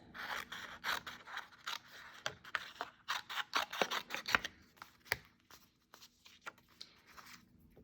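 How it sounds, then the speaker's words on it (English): Scissors snip through a Post-it note in quick, close, crisp cuts, with faint paper rustling between clusters of snips and no talking. "I'm taking a Post-it note and first I will cut this."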